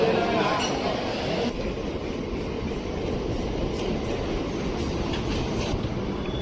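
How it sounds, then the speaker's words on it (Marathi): A Churchgate to Dahanu local train at a Mumbai suburban platform, a loud, continuous rumble of wheels and carriages with a faint squeal and clinks, people talking in the background. "चर्चगेट टू धानू ट्रेन आलेली आहे"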